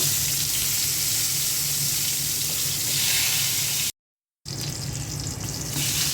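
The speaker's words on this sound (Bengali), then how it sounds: "এখন বেগুনটা ভেজে নেব।" Eggplant slices frying in a pan at home, a loud, steady hiss of hot oil that runs continuously, broken by a brief moment of silence before the sizzling resumes.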